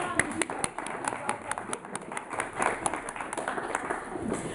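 Scattered clapping from a small group during a language-learning dice game, sharp individual claps at an uneven rhythm, moderately faint, with voices and room noise around them.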